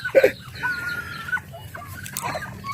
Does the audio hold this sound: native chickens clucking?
yes